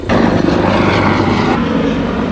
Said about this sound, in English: which means an airplane is coming soon.